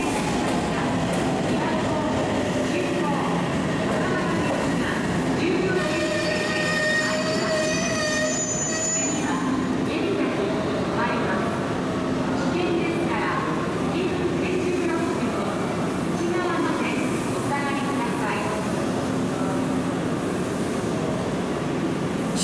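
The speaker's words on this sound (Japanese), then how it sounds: "7時56分発の8両編成による急行新松田行きの列車です。" An eight-car Odakyu 2000 series express commuter train rumbles steadily past with wheels squealing and metallic screeches on the rails, a continuous loud roar throughout.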